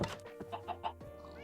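A Minecraft chicken clucks in a quick series of four or five short, close clucks, clear and alone, then falls quiet.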